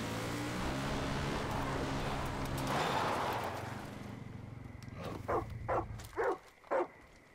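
A dog in the Far Cry 5 video game barks four times in quick succession, close and moderately loud, after a stretch of engine and boat-like rumble fades out.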